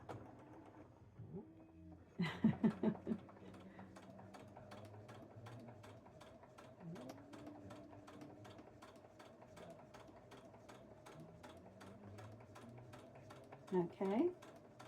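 A sewing machine stitches fabric at a slow, even pace, its faint, regular ticking clicks running steadily throughout while a person talks quietly over it.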